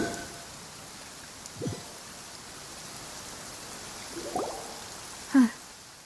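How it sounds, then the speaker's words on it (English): Steady rain falls in the video game Genshin Impact, a soft even hiss throughout with a few brief faint sounds breaking through. "It's been raining non-stop."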